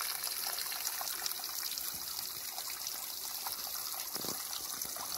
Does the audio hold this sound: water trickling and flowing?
yes